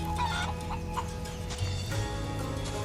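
Chickens cluck in a village farm scene of the video game Final Fantasy VII Rebirth, in the Gongaga area: repeated short clucks over steady background game ambience, with no talk.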